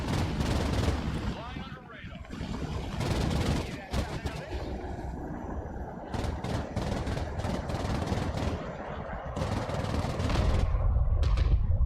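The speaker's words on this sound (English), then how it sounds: "I'm calling in an air raid to level these buildings." An air raid levels buildings in the Broken Arrow war game: heavy booming blasts and rattling gunfire burst repeatedly at close range, dense and loud, with short gaps between volleys and voices talking underneath.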